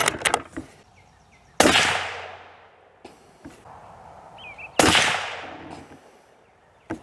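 Two sharp, loud Savage 110 High Country rifle shots ring out roughly three seconds apart at an outdoor range, each with a long fading echo. A faint earlier crack and small clatters come between them.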